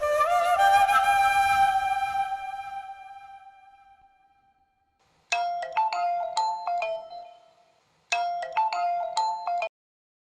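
A phone ringtone plays unanswered indoors, a sustained melodic tone fading out, then two further bursts of a bright repeating ring pattern after a pause, loud and alone with no talk.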